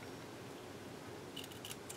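Scissors snipping the ribbon ends of a handmade bow: a few quick, crisp blade clicks close up near the end, over a steady soft background hiss.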